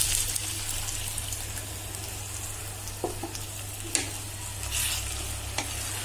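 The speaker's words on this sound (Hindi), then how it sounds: "4 कप पानी मैं डालूंगी।" Lukewarm water poured into a pot of frying rice and vegetables for a one-pot vegetable tehari, with a steady sizzle and bubbling under a few faint clinks and splashes.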